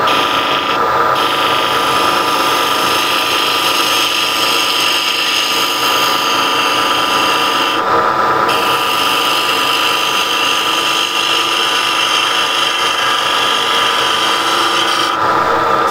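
A skew chisel shaves wood on a spinning lathe, giving a steady, close, loud rasping hiss over the motor's hum, with a few brief shifts in pressure as the cut continues.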